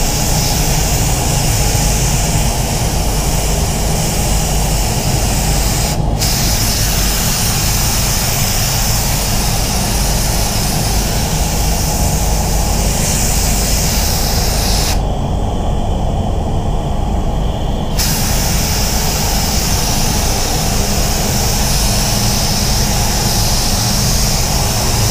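A spray gun paints a Ford Falcon XR6 car with a loud, steady, continuous hiss of air and spray. The hiss runs close and unbroken, with a short change in its upper hiss partway through.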